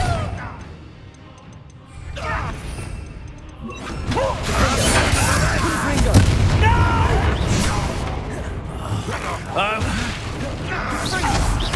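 Bombarda explosion spell in the Hogwarts Legacy video game, a dense, loud blast amid layered combat effects and music, with in-game voices speaking over the action.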